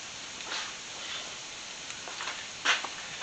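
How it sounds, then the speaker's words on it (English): Garlic cloves sauté in a hot pan with a soft, continuous sizzle. A brighter crackle bursts out near the end, and no one speaks. "Saute those up with, I don't know, a couple of, I think that was 2 cloves of garlic"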